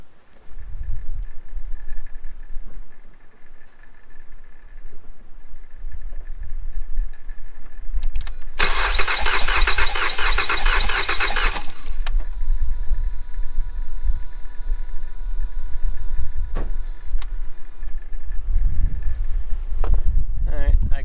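Starter cranking a Mazda 6 3.0 engine with the ignition coils off during a compression test, a loud steady burst of about four seconds midway through, surrounded by quieter workshop background.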